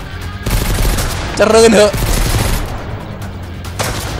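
Gunfire in the Mist Survival game during a raid on a bandit camp perched on high ground, a loud burst of a few shots packed close together in the middle, with someone talking over it.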